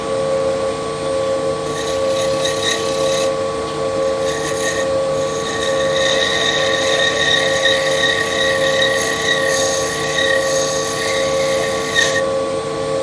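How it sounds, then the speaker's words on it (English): A steady whirring hum of a spinning wood lathe with an abrasive rasping rub of sandpaper on a turned wooden finial layered on top, constant and close, briefly easing in and out. "just a little bit of sanding."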